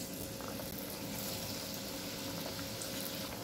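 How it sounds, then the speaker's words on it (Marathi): Battered potato bhaji slices fry in hot oil, giving a continuous dense sizzle and bubbling hiss at steady, close, even loudness with no voices. "तेल गरम झाले, भजी टाकून घेऊया।"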